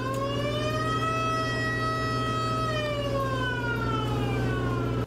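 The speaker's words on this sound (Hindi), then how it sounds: "इस सिस्टम से अभ्यास शुरू करते ही सायरन बज उठा" A wailing air raid siren during a military drill in Taiwan holds steady and then slowly falls in pitch, loud and continuous over a low, constant rumble.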